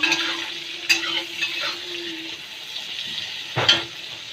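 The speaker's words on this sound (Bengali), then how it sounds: "বেগুনগুলো এইভাবে কেটে আর হলুদ লবণ দিয়ে আমি ভেজে নেব" Cut eggplant seasoned with turmeric and salt fries in hot oil with a steady, close sizzle, broken by a few sharp scrapes and clicks of a spatula stirring the pan.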